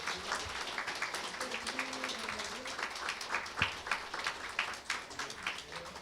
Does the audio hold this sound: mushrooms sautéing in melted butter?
no